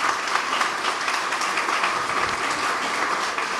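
An audience at a Labour Code presentation applauds with dense, steady clapping that holds even and fairly loud throughout.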